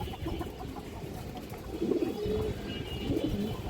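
Several pigeons in a loft coo steadily at close range, their low throaty calls swelling in overlapping bursts without any talk.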